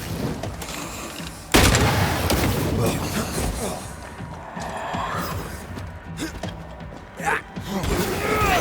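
Enemy gunfire in the video game Banishers: Ghosts of New Eden, a sudden loud blast followed by continuous rumbling combat noise and scattered thumps, with a later sharp hit near the end.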